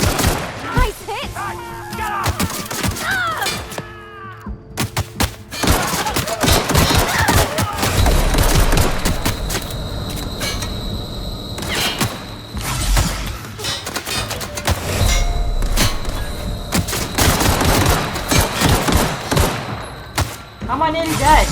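Dense gunfire in The Outer Worlds, with rapid bursts, thuds and impacts running nearly nonstop at close range, while a player talks over the shooting.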